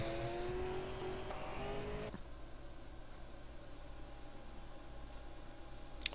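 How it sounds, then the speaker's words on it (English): Race car engines in a racing video game drone and whine steadily, a loud roar for the first two seconds dropping to a quieter, continuous engine hum. "this time we do have car sound"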